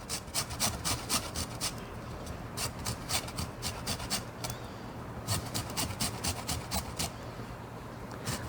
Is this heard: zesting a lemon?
yes